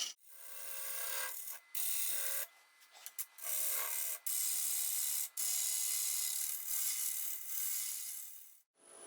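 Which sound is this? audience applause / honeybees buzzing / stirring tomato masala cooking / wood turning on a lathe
wood turning on a lathe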